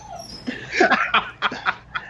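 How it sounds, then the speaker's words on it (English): Dogs in a house whimper and yip in a quick run of short, high cries, close and fairly loud, with brief pauses between bursts. "I'm not sure whose dogs they are."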